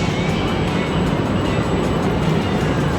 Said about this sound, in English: This is the Italo bullet train.